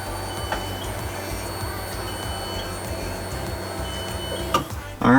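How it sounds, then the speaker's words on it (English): An AEM E85 fuel pump primes in an R32 Skyline GTS-T Type M, giving a steady electric hum with tonal whine that runs continuously, ending in a brief clunk and rising noise. "let's turn the car on and see if it'll prime the fuel pump"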